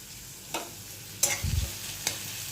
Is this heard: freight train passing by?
no